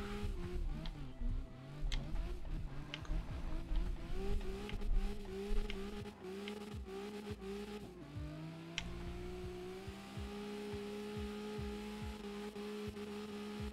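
Racing car in a video game, a slow car driven on the Yebisu course, its engine droning steadily with rising and falling revs and gear shifts, punctuated by tyre squeals and clicks, loud and close throughout.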